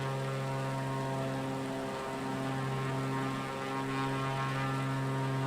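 Extra 330LT propeller aerobatic plane in Microsoft Flight Simulator, a steady droning engine and prop hum with strong low harmonics, continuous and fairly loud throughout with slight swells, no voices.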